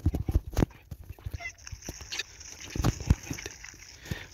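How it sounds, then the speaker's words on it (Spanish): Footsteps of a crowd of donkeys in Minecraft, trotting in a quick patter of light, irregular clip-clop hits at the start of a match of twenty against twenty animals, with some tonal game noise in the background. "Veinte burros."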